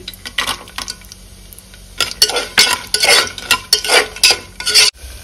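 Cashews, along with cloves and other whole spices, are stirred and fried in a pan. A spoon scrapes and clinks against the metal in irregular bursts over a faint sizzle, and the sound is close and fairly loud.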